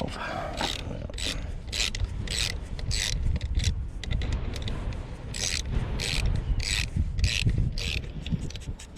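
A hand ratchet clicks away at the exhaust bolts on a Honda Grom motorcycle, with rapid bursts of sharp metallic ticking repeating throughout over a low background rumble and mechanical rubbing.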